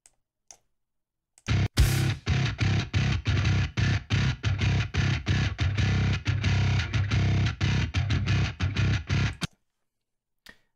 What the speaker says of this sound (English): For recording I needed a bass tone with a little bit of distortion.